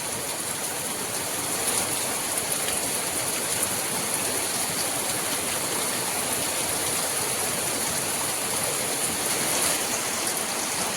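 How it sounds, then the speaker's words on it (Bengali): Steady, dense hiss of heavy rain pouring down without pause, loud and continuous throughout. "বাইরে এই যে বিশাল বৃষ্টি আরম্ভ হয়ে গেছে একদম মুসলধারেই বৃষ্টি হচ্ছে"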